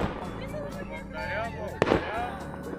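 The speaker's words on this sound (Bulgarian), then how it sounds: "виж какво става, заря от ниското." Fireworks set off from low ground at a Christmas and New Year celebration, with faint distant pops and then one sharp, louder bang, heard under people talking.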